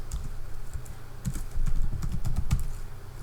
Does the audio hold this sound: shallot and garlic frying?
no